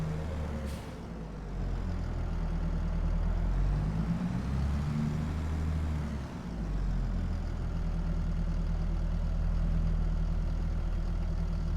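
A tractor engine in Farming Simulator runs in a steady, loud, low drone for the whole stretch, dipping briefly and swelling again as the machine maneuvers.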